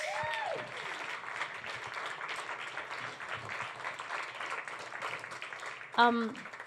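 A comedy-show audience applauds a performer named Alex, with steady clapping through the clip, a host's voice over it, and a brief louder swell near the end.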